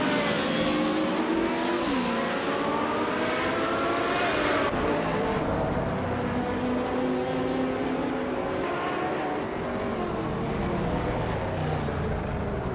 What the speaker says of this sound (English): Bot Famaka is driving a 1996 Opel Calibre DTM